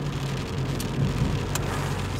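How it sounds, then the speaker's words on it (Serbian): Rain falling in Kruševac, Serbia, heard from inside a car on the road: a steady, continuous hiss and patter over a low engine rumble, with a couple of brief sharper taps and no voices. "E da, počela je kiša ovde u Kruševcu"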